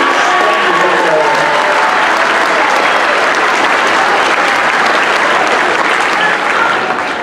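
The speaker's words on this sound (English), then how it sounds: "Can we please give one more round of applause for our fabulous 5th grade band members?" A school concert audience gives loud, sustained applause for a 5th grade band, with many hands clapping continuously and some crowd noise mixed in.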